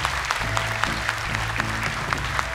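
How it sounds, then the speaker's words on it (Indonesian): Studio audience clapping for two young Quran memorizers on an Indonesian televised Quran recitation show, a steady dense patter of applause over low music. "Tepuk tangan, semangat untuk mereka berdua."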